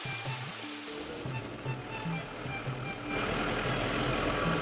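Small waterfalls and streams run through a sal forest in Saranda, giving a steady rushing flow of water that swells slightly louder toward the end, with low rumbling undertones throughout.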